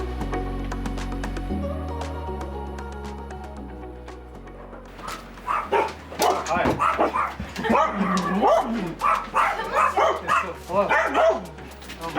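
Several dogs bark and yip in bursts during the second half, loud and close, after a stretch of steady background music, with a person speaking at moments in a home gathering.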